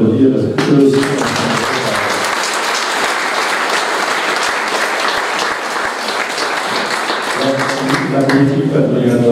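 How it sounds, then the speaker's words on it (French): Loud, sustained applause from a crowd at an opening-speech event at the Musée d'Art et d'Histoire du Cap de Gascogne, with a voice heard briefly at the start and end. "Je pense qu'on peut les applaudir parce que eux aussi."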